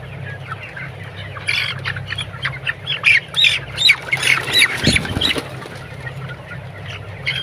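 Twenty-two-day-old broiler chickens, heavy enough to develop split legs, squawk in a dense cluster of sharp calls over a low farm hum, fairly close and rising in the middle before easing off.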